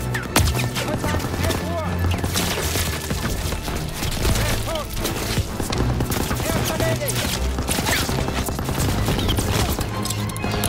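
Suppressing fire at a bunker in Call of Duty: WWII, a steady, loud barrage of overlapping gunshots and impacts sustained throughout, with shouting voices buried in the battle noise.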